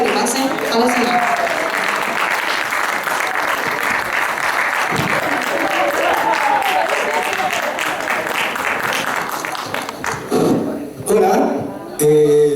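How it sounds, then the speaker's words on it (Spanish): Sustained audience applause fills a congress hall in Santiago, Chile, loud and dense for about ten seconds, with some voices and cheers mixed in before it thins out and gives way to talk near the end. "Por favor, aplausos para los hermanos para que pasen a la sala."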